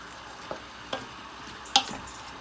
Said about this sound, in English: But try and get this fried off as long as possible without burning anything.